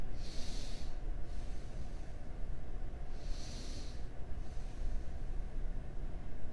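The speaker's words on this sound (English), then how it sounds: "take 3 deep breaths" Deep breaths taken during a yoga pose: two strong, airy exhalations stand out a few seconds apart over a steady low background rumble.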